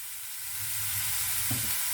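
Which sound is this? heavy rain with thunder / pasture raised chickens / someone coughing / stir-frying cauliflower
stir-frying cauliflower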